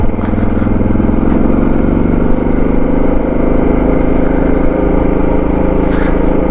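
A Suzuki DR650 or Moto Guzzi V85TT dual-sport motorcycle rides on Rocky Mountain gravel with no ride modes, its engine droning steadily and loud up close, mixed with wind and road roar.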